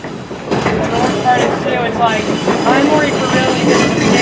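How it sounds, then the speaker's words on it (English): Transfer caboose rolling down a heritage railway main line, with steady close rumble of wheels on rail, faint clatter and occasional squeal throughout, people talking over it. "let's take a unique ride on the transfer caboose down ORM's main line"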